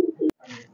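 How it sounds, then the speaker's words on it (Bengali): A high flyer pigeon in a loft gives a short, low coo of two quick throaty notes, close and clear, followed by faint background sound. "অনেক পুরনো কবুতর, বিশেষ করে ওই কবুতরটা অনেক বয়স্ক কবুতর।"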